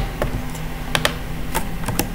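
Keys clatter on a computer keyboard during website posting work, a handful of crisp, close clicks spaced irregularly, with a quick Ctrl shortcut and paste, and no voices.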